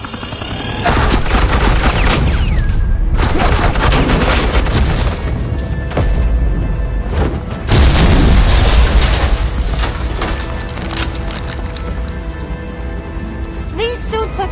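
Suppressing fire in a Batman video game, long loud bursts of rapid gunshots and booms that rattle on for many seconds with brief gaps, a voice talking beneath.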